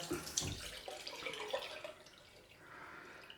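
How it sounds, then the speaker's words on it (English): Cold water running from a bathroom tap into a sink during a head shave, a soft, steady splashing stream with a few brief drips, quiet and close, easing slightly toward the end. "Cold water."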